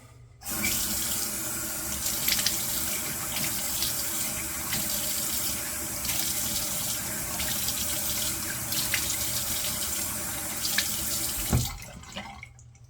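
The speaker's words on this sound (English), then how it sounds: "nice cold water rinse" Water streams steadily from a tap into a sink for several seconds, with a few light clinks, then shuts off.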